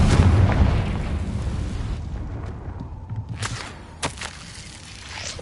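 A Confringo fire spell from Hogwarts Legacy bursts with a loud, broad explosive boom at the start, then trails off into a rumbling decay with a few sharper crackles and pops later on.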